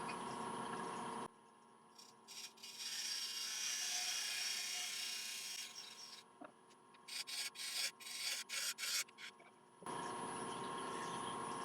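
A lathe tool cuts a bead into elm wood on a woodturning lathe, giving soft scraping and rubbing bursts with several short rhythmic strokes, set between quieter stretches of steady higher hiss.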